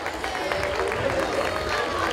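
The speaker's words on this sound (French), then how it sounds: "on l'applaudit parce que vous voyez, c'est pas facile" Audience at a calf presentation and race during a local fair, clapping steadily and densely throughout, a continuous patter of applause with some crowd murmur underneath.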